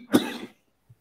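A single sharp adult cough indoors during a seated conversation, close and fairly loud, followed by a brief soft throat sound and then silence.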